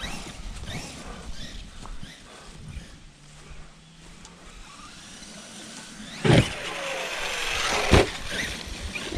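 Traxxas Revo and Rustler RC cars drive outdoors, their motors whirring at a moderate distance with shifting pitch, while gravel crunches and two sharp, loud bursts of noise come near the end.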